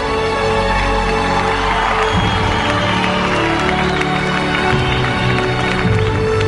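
An audience at a junior singing contest grand finale claps steadily, a dense wash of applause with a crowd murmur, over sustained music.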